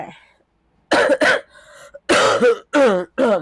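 A loud close-up bout of coughing and throat clearing, several rough bursts in quick succession after a brief quiet pause, no words spoken.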